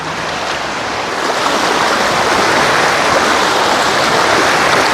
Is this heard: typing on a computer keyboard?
no